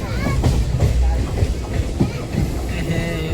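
An Indian train passes close by with a rumbling engine and rhythmic clattering of wheels over rail joints, loud and steady, with voices talking over it.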